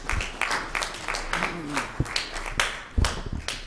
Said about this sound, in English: With a clap offering,